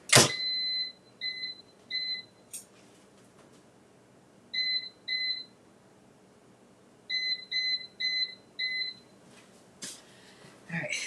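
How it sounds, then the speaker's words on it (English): An air fryer timer being set, giving short bright electronic beeps in quick groups of two and three, separated by quiet gaps, with a few clicks and handling sounds. "let's do 7 minutes on the timer so I don't forget about it"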